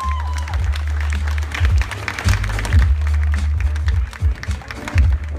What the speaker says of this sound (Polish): Wielkie brawa, Mateusz Bartosz